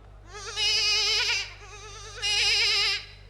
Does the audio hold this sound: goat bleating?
yes